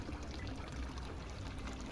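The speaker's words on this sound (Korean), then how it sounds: "졸졸졸 흘러내리는 물 소리가 참 듣기 좋죠." Water trickling and splashing from a small ornamental fountain on a street in Bern's old town, a continuous soft pouring that is close and fairly quiet, with no voices over it.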